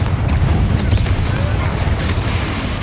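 A Confringo blasting spell explodes in the video game Hogwarts Legacy, a loud, continuous rumbling blast with dense low-end boom sustained for about three seconds.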